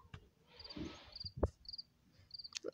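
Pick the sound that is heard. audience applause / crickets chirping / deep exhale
crickets chirping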